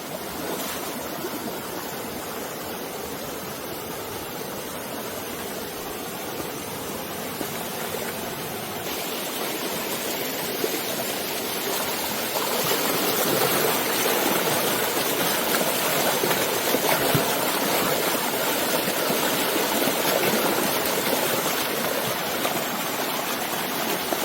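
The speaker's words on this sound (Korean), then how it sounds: "지금 시원하게 흐르는 맑고 깨끗한 물" Clear mountain valley stream water near Danyang rushes continuously, a steady broadband roar and splash close by that swells slightly louder midway, with no voices.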